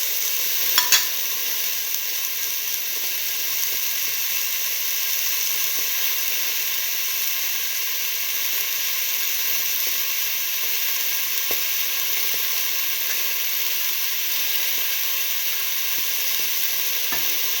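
Tomato pieces sizzle steadily in a hot pan with salt, a constant bright hiss of frying that stays even throughout, with a faint stirring scrape near the start.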